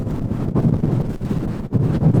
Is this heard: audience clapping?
no